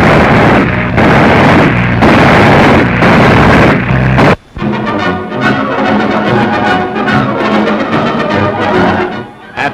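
Synchronized aircraft machine guns firing between whirling propeller blades in a 1941 US Army Air Forces setting: dense, loud bursts of rapid gunfire with engine roar, dropping briefly before continuing as a busy, crackling clatter.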